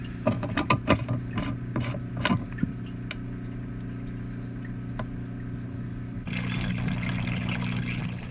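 Water filling and cycling through a small DIY aquaponics grow bed, a steady trickle and pour over a constant low pump hum, with scattered light knocks early and a brighter rush of flow toward the end.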